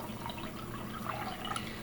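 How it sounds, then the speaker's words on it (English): Kefir poured from a mason jar into a strainer gives a soft, continuous wet splashing and dribbling, faint and close, with no talking. "there you can see how it's splashing out."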